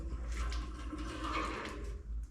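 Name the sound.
water running from bathroom pipes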